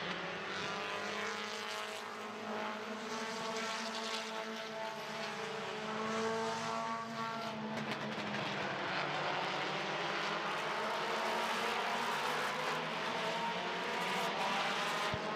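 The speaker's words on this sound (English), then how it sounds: "2 laps to go this time around in our first compact heat race" Compact race cars in a speedway heat race roar together in a steady, loud, close engine drone that swells and shifts as the pack circles, with no talk over it.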